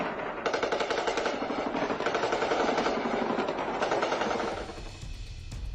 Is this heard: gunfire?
yes